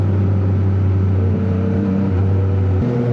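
A Yamaha MT-09 motorcycle engine drones steadily while riding on a group ride to Dingalan, a loud continuous low hum with a slight pitch shift near the end, with no speech.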